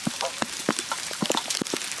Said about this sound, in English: we've got hail. We've had it all over the past few days. Yeah, that's coming down quite heavy